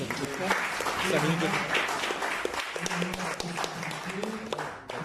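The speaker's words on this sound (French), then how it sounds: "Merci à tous, je pense qu'on peut les applaudir." Steady crowd applause fills the room throughout, dense clapping with a voice speaking over it before the clapping fades at the end.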